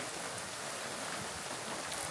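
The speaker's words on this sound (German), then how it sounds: "es regnet" Steady rain falling at night outdoors, a dense, even hiss of drops filling the whole moment with no talking, moderately quiet and constant.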